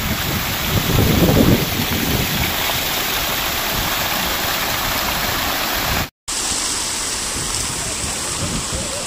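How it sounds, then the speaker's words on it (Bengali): Water released from the Krishnaraja Sagar (KRS) dam near Brindavan Gardens rushes and roars in a loud, steady, broad wash that never lets up. A brief dropout breaks it partway through. "কেআরএস ড্যাম বা কৃষ্ণরাজাসাগর ড্যামের জল বেড়ে যাওয়ায় জল ছেড়েছে"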